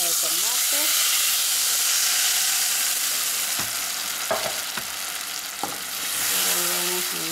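Tomato salsa hits hot oil in a pan and sizzles loudly and steadily, with spoon stirring scrapes and clinks partway through as the hiss continues.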